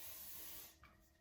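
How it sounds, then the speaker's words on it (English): A short, close hiss from a spray can coating a table decoration, lasting under a second before cutting off into quiet. "Now give it a little spray."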